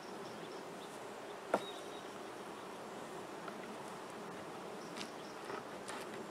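Honey bees hum around a swarm trap box as they crowd inside, a soft, steady close buzzing with one sharp knock early on and faint passing wingbeats.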